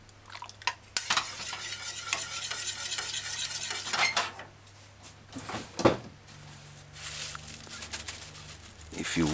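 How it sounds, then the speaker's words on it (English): A spoon stirs sweet and sour sauce in a saucepan lifted slightly off the heat. Scraping strokes and light metallic clinks sound close, over a faint simmering sizzle. "Lift the saucepan off the heat somewhat and kind of use the spoon and stir"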